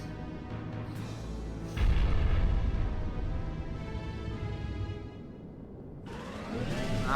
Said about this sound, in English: Yeah, so that's what I mean by nuclear explosions.